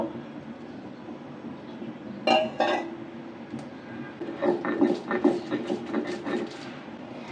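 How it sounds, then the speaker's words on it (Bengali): Spiced taro roots (kochur mukhi) being lightly mashed in a dish, giving a few close scraping and tapping clatters of a utensil against the bowl, a brief pair of sharp knocks followed by a looser run of soft clinks. "কচুর মুখিটা আমি একটু বাটা দিব এই যে এটা এখন আমি হালকা করে একটু বেটে নিব"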